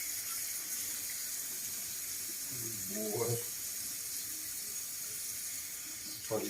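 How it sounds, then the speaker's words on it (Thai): Cups being washed at a sink under running water, a steady hiss of flowing water and clatter throughout, with a brief faint voice partway through. "ล้างถ้วยสะอาดสะอาดเด้อจ้ะ"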